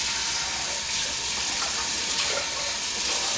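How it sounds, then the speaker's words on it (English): Tap water runs steadily from a kitchen faucet while filling a cup for a 6-quart Insignia pressure cooker, a continuous broadband hiss and splash heard close and alone with no talking. "I'm just going to take a little bit of tap water."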